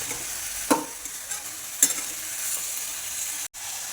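Corn kernels being stirred in a hot pan for a snack, a soft continuous sizzle with a couple of sharp spoon scrapes against the pan, close up with no voices.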